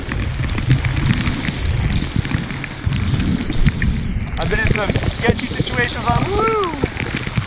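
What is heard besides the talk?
heavy rain falling while paddling a Predator PDL kayak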